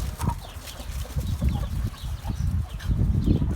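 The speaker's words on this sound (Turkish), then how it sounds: "Bugün tavuklarımızı bahçeye salacağım." Chickens are let out of their coop into a garden, a busy flock clucking and chattering close by in overlapping bursts, with rustling and scuffling under a steady background murmur.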